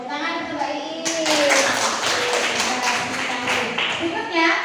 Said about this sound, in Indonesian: Tepuk tangan untuk Mbak Iin